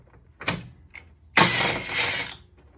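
A 10 millimeter bolt loosened from the lower airbox of an ND Mazda MX-5 Miata, heard as a sharp metallic click followed by a brief burst of rapid ratcheting, close and clear in a quiet garage.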